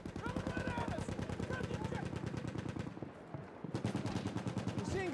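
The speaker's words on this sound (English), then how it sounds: "Enemy machine gun over there!" Enemy machine gun in the Battlefield 1 multiplayer battle rattles in continuous rapid bursts, loud and close, with a brief lull near the middle before the automatic fire resumes, mixed with game voice chatter.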